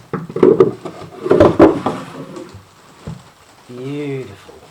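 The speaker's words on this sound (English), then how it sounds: "Drawer number 1 going in." A reclaimed Ipe wood drawer slides into a fifteen-drawer workshop cabinet with wooden rubbing and knocking sounds, close and clear, followed by a brief voice afterwards.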